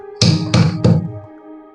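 Whole spices, including pepper and half a dried chilli, are lightly pounded for temple-style pepper pongal with three quick, solid knocks in even rhythm, close and loud, then a brief fading ring.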